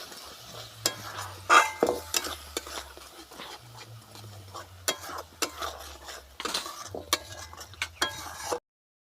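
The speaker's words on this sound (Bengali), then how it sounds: "দিয়ে এবার সব মশলাটাকে ভালো করে কষিয়ে নেব।" A spice paste with sugar and ghee is stirred and sautéed in a pan for a vegetarian soybean curry, with a soft sizzle under repeated scraping of a utensil against the pan in uneven bursts.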